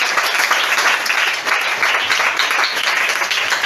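A church congregation applauds loudly and continuously, dense clapping filling the space at a steady level with no break.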